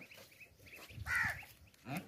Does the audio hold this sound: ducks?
yes